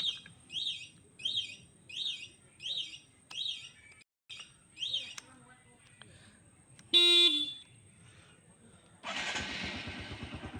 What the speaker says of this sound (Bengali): এরপর আমরা বাইকটি অন করছি